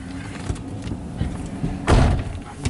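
A truck cab door shuts with a single solid thump near the end, following faint rustling and small knocks from inside the cab.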